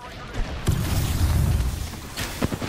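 A grenade explodes in a video game with a deep, rumbling boom that swells and lingers for over a second, followed by fainter crackling hits.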